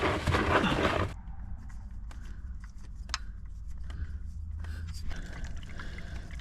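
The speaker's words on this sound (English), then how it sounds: "we're just gonna wait for all the oil to come out of this pan" Motor oil drains from a car's oil pan into a container, a steady low trickle and patter that follows a louder, splashier first second and carries on quietly with occasional small clicks.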